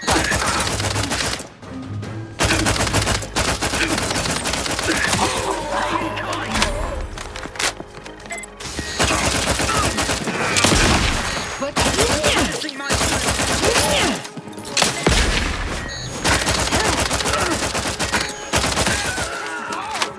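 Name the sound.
gunfire in the video game The Outer Worlds 2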